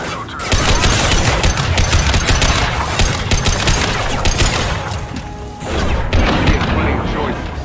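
Impact shot weapon fire in the Mass Effect 2 video game. Dense, loud, continuous bursts of gunfire and crashing combat noise run throughout, with voices mixed into the action.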